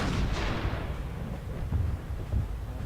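A tank cannon firing in the Arma 3 video game, a heavy booming blast that rolls off into a long low rumble, with no talking over it.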